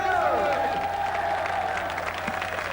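A studio audience on a French TV game show claps and cheers, a dense burst of applause close in that fades slightly over a few seconds, mixed with a host's voice and musical tones.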